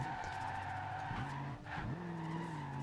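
A 1970 Z28 Camaro drifting in Forza Horizon 2, its tires squealing and skidding loudly over a revving engine, with the pitch shifting as the slide changes and a brief dip near the middle.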